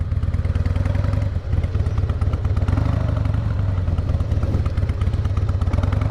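A 2004 Harley-Davidson Softail motorcycle ridden in a slow race, its engine a loud, close, steady low rumble with a lumpy idle-like throb throughout.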